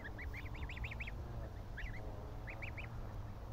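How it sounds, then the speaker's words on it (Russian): Small goslings grazing on grass in a pen, giving short high peeping honks in quick bursts of three to six calls over a low steady background rumble. "Гуси маленькие."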